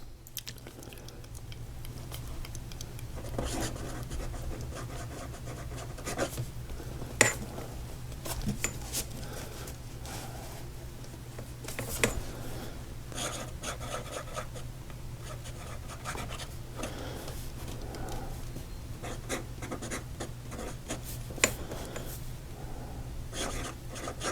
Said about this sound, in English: this nib is a little stubby, but it is really, really soft and just a pleasure to write with.